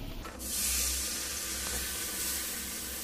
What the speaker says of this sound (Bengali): বাদামি কালার হয়ে গেছে, এখন আমি পানি দিব।